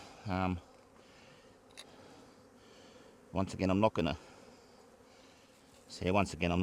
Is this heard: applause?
no